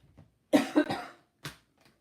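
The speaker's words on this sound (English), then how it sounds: "Sorry, I still have a stinking cough." A person with a lingering cough hacks a few times close to the microphone, a quick burst of two or three harsh coughs followed by a single softer one after a short pause.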